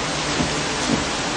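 Steady rain hisses evenly throughout, a dense, continuous wash of falling drops with no voices.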